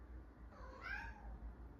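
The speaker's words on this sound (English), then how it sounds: "That's my cat." A cat gives a single drawn-out meow, moderately close and fairly quiet, rising then falling over about a second against a low steady background hum.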